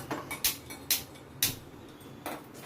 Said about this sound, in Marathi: गॅस चालू करते।